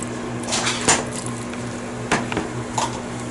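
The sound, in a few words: sauce being added to Thai mango salad and mixed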